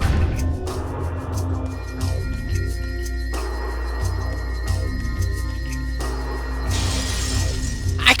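An energy field in the video game Metroid Prime 2 shatters like a glass window, a loud sustained crash of breaking shards followed by ringing, sonar-like tones and a final bright burst.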